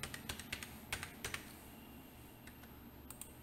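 Keyboard typing in a quiet room as a mobile number is entered, with a burst of quick clicks early on, then fewer, lighter taps and a couple of final presses at the end.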